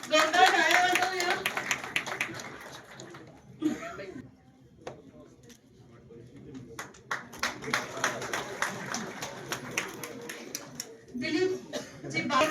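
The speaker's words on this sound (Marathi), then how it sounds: "जोरदार टाळ्या वाजवूया." Audience applause at a felicitation ceremony in Satara district, clapping swelling loudly at the start, fading to a lull, then rising again in bursts near the end, with an announcer's voice heard between rounds.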